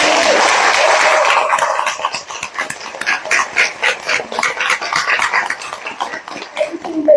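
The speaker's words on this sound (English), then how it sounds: "Let's clap for them" Audience applause at a roundtable meeting on rising unemployment, a loud burst of clapping that settles into rhythmic, pulsing claps from a room of people.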